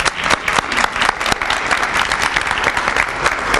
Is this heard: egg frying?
no